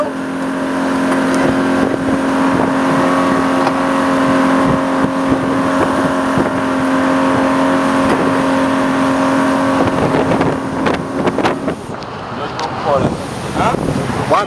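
Boat engine running steadily during a crossing to Goree Island, Senegal, a loud droning hum with wind and water noise that cuts out near the end, leaving waves and wind.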